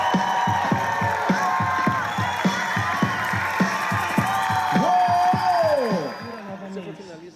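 Enthusiastic crowd cheering and clapping for slam poets at a talk, a dense wash of applause with rhythmic claps and shouts, fading near the end while whistles or voices rise over it.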